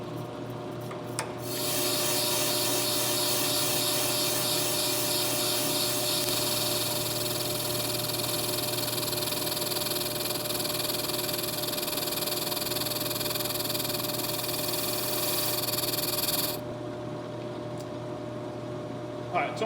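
An Ammco brake lathe cutting a brake rotor, the running motor joined by a steady, close grinding scrape of the cut that holds for about fifteen seconds before the cutting noise drops away, leaving the machine humming.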